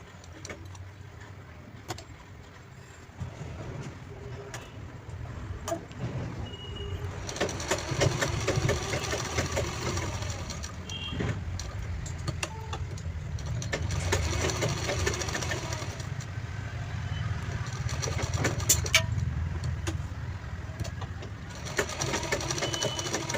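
Sewing machine stitching the pocket of a sling bag, a steady close mechanical whir with a low motor hum, running continuously with slight surges in speed.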